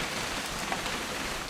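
Steady rainfall in What Remains of Edith Finch, a dense even hiss of drops on surfaces, moderately loud and unbroken, with no one speaking.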